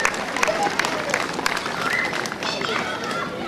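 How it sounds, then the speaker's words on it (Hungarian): Lively applause from an outdoor crowd at a harvest procession festival, dense clapping lasting a few seconds with scattered cheers over it. "Megérdemel egy tapsot."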